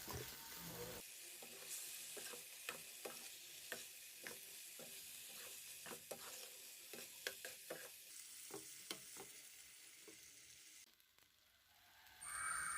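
Prawns stirred through a sizzling masala for a Kerala-style prawn roast, with a steady frying hiss broken by repeated sharp scraping stir strokes, close up and alone, then a brief louder burst near the end.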